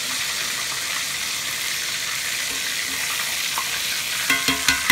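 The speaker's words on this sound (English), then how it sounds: "It's going to fry it nicely." Soft shell crab fries in a pan for a Cajun po boy, giving a steady, close hiss of sizzling oil with a few sharper pops and spatters near the end, and no talk.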